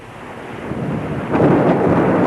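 Rolling thunder rumbles loud and close as a storm sound effect in a 1980 Spanish radio drama, a steady roar that swells in the second half with no voices over it.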